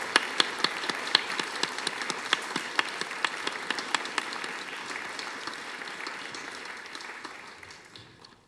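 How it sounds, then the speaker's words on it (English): Audience applause for a panel at a celebration of queer identity and belonging, dense steady clapping with a few sharper claps near the front, gradually fading out toward the end. "please let's give a big round of applause to everyone"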